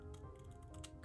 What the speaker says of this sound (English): a little bit more trimming, just for ease of use